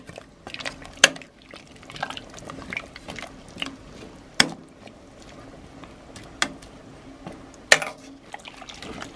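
Pork intestine stew being stirred in a pot after konjac, carrot and daikon go in, with soft bubbling and liquid sloshing broken by a few sharp clinks of a utensil against the pot.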